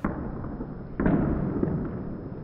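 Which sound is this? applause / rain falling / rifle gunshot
rifle gunshot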